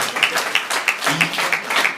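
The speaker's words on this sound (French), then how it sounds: "Ok, applaudissez-le" Audience applause for the first Diamond-level president of a company, a steady patter of hand claps with no voices over it.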